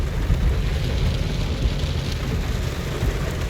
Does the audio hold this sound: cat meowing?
no